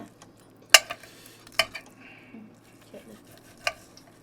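A knife clicks and taps against a board in a few sharp strikes, slicing thick pieces of grilled tomahawk steak, with quiet scraping and faint kitchen noise between them.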